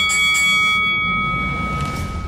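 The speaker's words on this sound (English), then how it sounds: "Ring the bell." A bell rung on a broadcast show, its sustained ringing tones sounding loud and steady before gradually fading under a low background hum.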